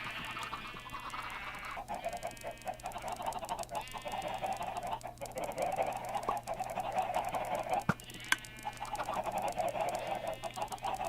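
Chickens cluck in a Minecraft chicken farm, a steady overlapping flock of game-style fowl calls running continuously at moderate level with no talk.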